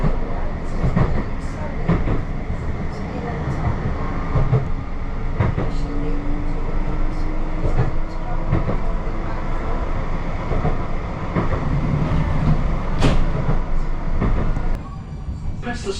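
Blackpool tram running on rails between Starr Gate and Fleetwood Ferry along the Fylde Coast, a steady rumbling ride with repeated clicks and clacks over rail joints, continuous and fairly loud from inside the car.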